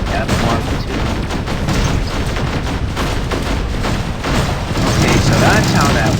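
Robot weapon in the War Robots video game firing a dense barrage of shots, loud rapid booming bursts continuing throughout, with a voice talking over the gunfire.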